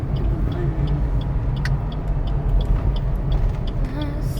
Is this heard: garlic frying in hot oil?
no